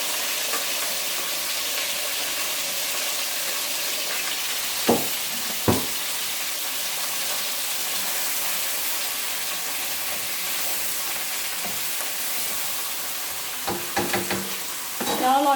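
Chopped onion and garlic fry in a pan with browned chicken pieces for a chicken cacciatore casserole, a continuous close sizzle with occasional clicks of a utensil against the pan.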